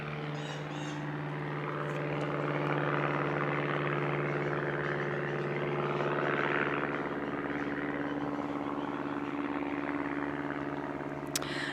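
A propeller airplane drones steadily overhead above a garden, a constant low hum with a broad rushing swell that rises and holds through the whole stretch, moderately loud and alone without any talk.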